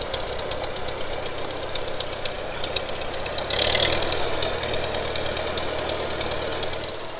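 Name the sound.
1956 Farmall 200 tractor engine running while planting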